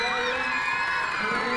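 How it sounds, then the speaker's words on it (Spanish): A crowd of students, children and guests cheers, whoops and applauds steadily in a central school courtyard during a Marian month festival procession, the noise dense and continuous throughout. "Fuertes aplausos a los chicos de Cope"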